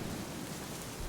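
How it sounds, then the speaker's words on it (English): Heavy rain pours at night in The Witcher 3: Wild Hunt, a dense, steady hiss of downpour filling the whole moment, loud and unbroken, with no voices. "this pissing down rain at this middle of the night"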